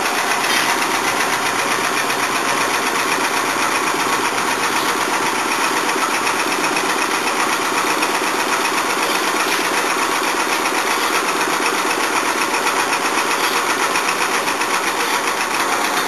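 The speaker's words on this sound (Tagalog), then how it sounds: "The genset is now running." A water-fueled generator set engine runs steadily, a loud, constant buzzing drone with a fast rattling vibration that holds unchanged throughout, close and with no voices.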